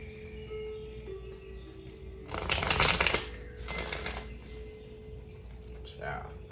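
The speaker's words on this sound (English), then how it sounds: "And then I'm going to shuffle 2 more times." Tarot cards being shuffled close up, in two quick riffling bursts with a brief pause between them, followed by a faint rustle.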